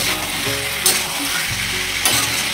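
Chicken and potatoes sauté (kosha) in a pan, giving a loud, constant sizzle close up, with two brief scraping stirs and no speech.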